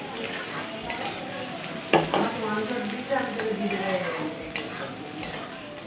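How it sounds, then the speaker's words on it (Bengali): Chopped onions fry in a pan with bay leaf, a steady crackling sizzle with scraping stirs and a sharp pan knock near two seconds, close and moderately loud throughout. "পেঁয়াজটা আমি খুব সুন্দর কম আছে ভেজে নেব লাল লাল করে"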